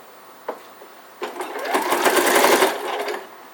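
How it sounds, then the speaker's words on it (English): Sewing machine with a walking foot stitching three layers of an elf hat together, a short burst of rapid whirring that builds and then fades after a couple of light clicks. "I'm going to use my walking foot, and I am just going to sew all three layers together."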